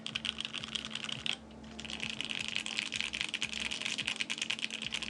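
Rapid, continuous clacking of keys on a mechanical keyboard with Banana Split switches, close up and steady, with a brief pause near the start.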